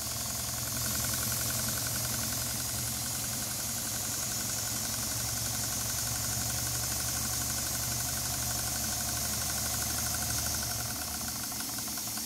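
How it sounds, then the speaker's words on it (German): A Stuart D10 model steam engine runs slowly at reduced speed, a steady close hiss with a faint, even rhythmic chuffing and knocking underneath that continues without pause. "Die Drehzahl der Maschine wird gedrosselt. Sie läuft auch schön langsam."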